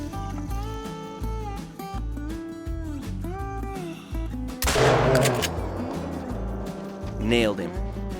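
A hunting rifle fires at an animal in the video game theHunter: Call of the Wild, on the Layton Lakes map: one sharp, loud shot midway with a rolling echo tail, then a fainter burst later, over a steady voice or tonal background.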